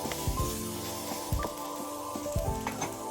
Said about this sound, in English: Heat some oil, add the chicken, and stir fry on high heat until they turn white.